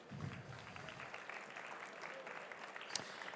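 An audience at a startup pitch competition final applauds to welcome a sponsor onto the stage, a faint, distant wash of steady clapping with one sharper clap standing out near the end.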